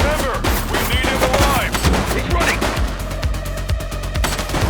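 Gunshots in the police game The Precinct ring out in rapid bursts throughout, close and loud, with sharp cracks layered over a busy background and some brief voices.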